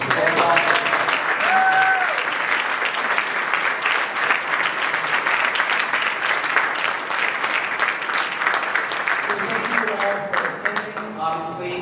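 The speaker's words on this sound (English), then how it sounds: "So another round of applause." An audience at a judge's induction ceremony applauds in a long, dense round that holds steady for several seconds and thins slightly at the end.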